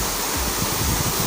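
Overflowing water tank sending water down at full force like a waterfall, a steady loud broadband rush of falling water with no pauses.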